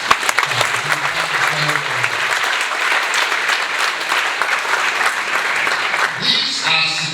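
Audience applause at a university leadership lecture in Ghana, sustained dense clapping from a large crowd filling the hall for several seconds, with a voice briefly speaking at the start and end.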